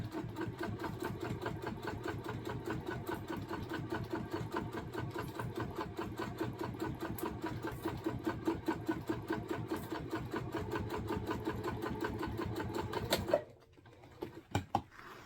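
A sewing machine stitches vinyl for a bag in a long, rapid, continuous run of needle strokes that stops abruptly near the end, followed by quieter handling noise.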